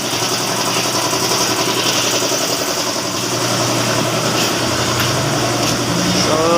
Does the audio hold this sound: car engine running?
yes